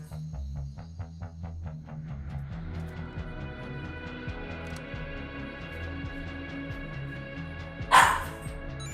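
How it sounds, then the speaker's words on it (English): A pet dog named Zoe gives a single sharp, loud bark near the end, rising over a background of electronic music and game sounds. "what are you barking about?"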